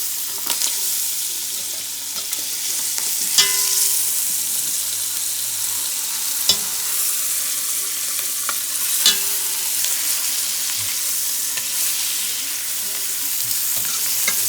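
Onion sizzling and frying in a pan, a steady bright crackle with occasional stirring clicks and scrapes as the pieces are turned, close and alone without talk.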